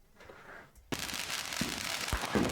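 A stash of Fourth of July fireworks goes off all at once. A quiet lead-in gives way to a sudden loud burst, followed by a dense run of crackling bangs and pops.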